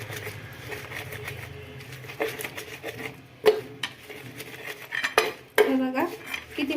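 Green chillies and garlic crushed with oil on an iron tawa for thecha, a run of scraping, grinding and knocking metal strokes at close range, irregular in rhythm.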